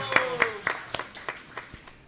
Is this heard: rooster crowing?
no